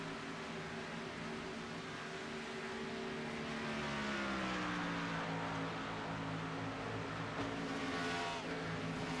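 Race car engines drone steadily around the Auto Club oval in a racing video game, with harmonic pitch sliding down and back up as cars cycle past, the continuous engine roar holding at moderate level with no talk.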